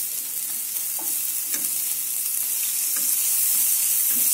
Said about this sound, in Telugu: కొంచెం దీంతో ఆనియన్స్తో పాటు ఉప్పు వేస్తున్నాను, సో దట్ అవి ఫాస్ట్గా రోస్ట్ అవుతాయి